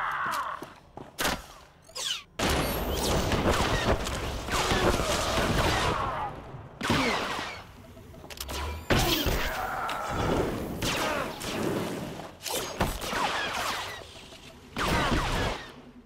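Blaster gunfire rattles through a shootout in the video game Star Wars: The Old Republic, dense overlapping shots and bursts with whooshes, loud and nearly continuous, with brief quieter gaps.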